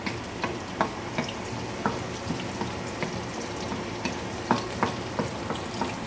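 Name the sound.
frying onion and garlic until brown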